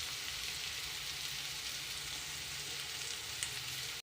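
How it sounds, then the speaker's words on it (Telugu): Potato curry fries in a pan with a dense, even sizzle that holds at a steady level throughout, with a faint stir near the end. "ఇలా కొద్దిసేపు ఫ్రై చేద్దాం"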